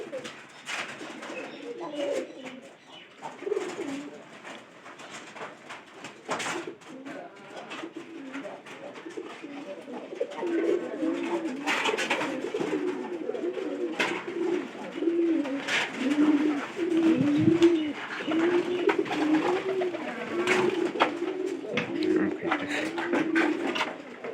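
Repeated low, rolling coos from a pigeon showing signs of being about to lay eggs continue throughout, close by, with occasional rustling and soft clicks in the background.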